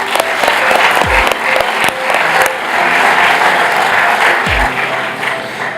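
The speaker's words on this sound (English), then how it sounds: "Give them a round of applause." A conference crowd at a real estate super conference breaks into loud, dense applause, a sustained wash of clapping from a large audience with a few thumps and bumps along the way.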